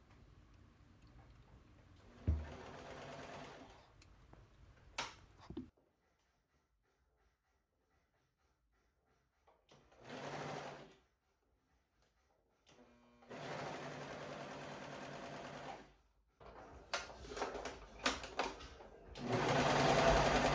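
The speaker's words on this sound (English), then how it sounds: "you'll sew right until you get to the point where the top of your pocket is" A serger sewing machine stitches a linen pants pocket in several bursts of rapid whirring, separated by near-silent pauses, loud and close.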